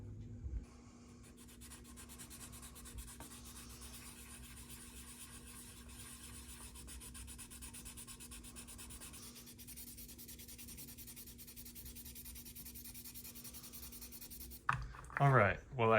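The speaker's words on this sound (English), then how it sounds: "So I took some liquid surface primer, put it on a toothpick, spread it out, and now I'll sand it off" Fine, continuous scratchy rubbing of liquid surface primer being sanded off a Johan AMC Rebel Machine model kit close up, under a steady low hum, ending with a brief louder clatter.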